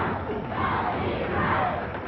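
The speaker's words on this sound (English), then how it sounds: "Now the crowd getting behind Steve Dahl again" A wrestling arena crowd at an Al Madril versus Steve Dahl match roars and cheers in a steady, dense wall of noise with no pauses, sounding loud and full throughout.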